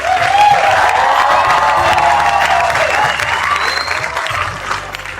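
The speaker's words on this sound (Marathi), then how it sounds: "जोरदार टाळ्या वाजवून या मुलासाठी" An audience at a Marathi theatre award ceremony breaks into loud, sustained applause and cheering, dense clapping filling the hall, while a voice carries over the crowd.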